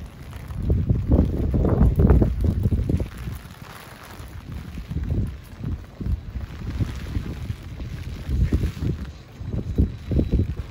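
Strong wind sweeps through a zoo theme park, buffeting the microphone in repeated rumbling gusts that rise and fall, loud and close.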